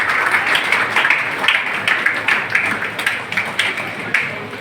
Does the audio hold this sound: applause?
yes